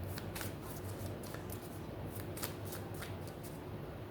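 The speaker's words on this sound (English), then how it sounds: "Let's shuffle." Tarot cards being shuffled up close, a steady papery riffle of repeated quick flicks and slaps running through the whole stretch over a low background hum, with no voices.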